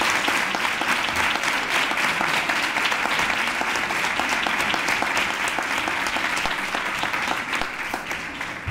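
Hearty applause from the audience at a Three Kings proclamation and coronation in Nerva, a thick, even roar of clapping that holds strong throughout and eases slightly near the end.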